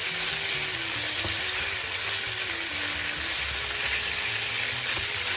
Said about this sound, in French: Et je vais le faire bien rissoler des deux côtés